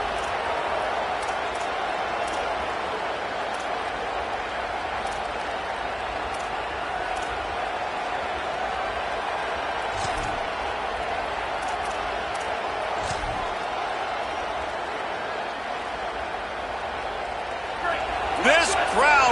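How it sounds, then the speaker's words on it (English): Dense, steady crowd roar fills a college football stadium at Penn State during a Tennessee game on a fourth down, sustained and loud throughout, swelling near the end, with a commentator talking over it. "This crowd busting the decibel meter and trying to will a fourth down stop"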